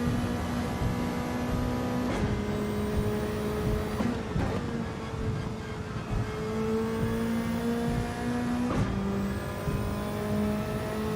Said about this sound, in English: The turbo sound is brilliant,